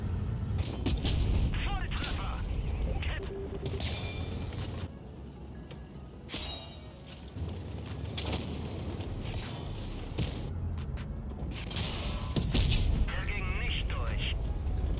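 The E100 tank's heavy cannon firing in the World of Tanks Blitz game, several deep booming shots and explosions over rumbling engine and battle noise, with someone talking over it.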